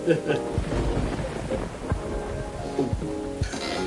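Thunder and lightning in the video game Coffee Talk 2, a low rolling rumble with steady rain-like hiss and a few sharper cracks, running continuously for four seconds at moderate loudness.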